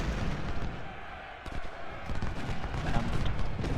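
Artillery fire in Ultimate General: Civil War, a series of dull booming cannon shots over a low rumbling battlefield bed, moderately loud with no voices.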